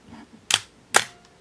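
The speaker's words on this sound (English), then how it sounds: "let's activate this shutter again." The shutter of a Minolta XG-M 35mm film SLR camera fires twice at close range, each release a sharp mechanical snap about half a second apart, with a faint whir after the second in a quiet room.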